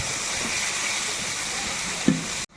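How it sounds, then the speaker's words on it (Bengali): A steady close sizzle of spices frying in a pan continues, then a short splash and gush as water is poured in near the end, followed by an abrupt cut. "এবার পরিমাণ মতো জল দিয়ে দিতে হবে।"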